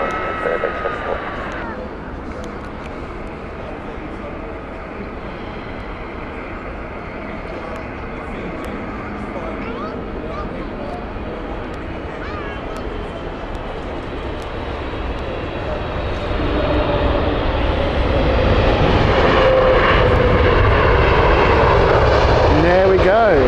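An airliner on approach to land on runway 27 right at London Heathrow on a winter night, its jet engine roar steady and broad, then swelling louder and nearer toward the end as it passes close overhead.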